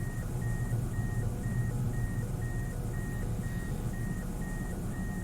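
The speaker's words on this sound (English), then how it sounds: "Just perfectly normal alarms going off." Alarms go off in the video game Shadowgrounds, a steady train of evenly spaced short beeps over a loud rumbling, droning ambience, with no speech.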